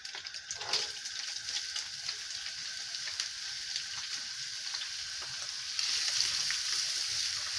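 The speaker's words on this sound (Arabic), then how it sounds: "هشوحها تشويحه بردك كده لغايه البصله ما تدبل كده يا حبيبتي" Chopped onion sizzles steadily in hot oil in a pan, a continuous bright crackling hiss that grows a little louder toward the end, with no talking.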